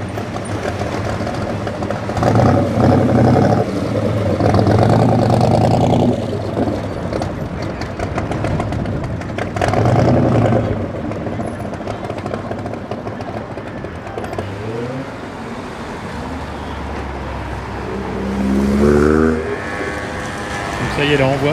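Vintage vehicles arrive and park at Place de la Concorde in Paris, with engines rumbling and passing in waves, surges swelling and fading, under steady talk.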